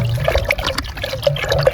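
Liquid for a nungu nannari sarbath, an ice apple drink, is poured back and forth between cups, a loud splashing, trickling stream with uneven gurgles throughout.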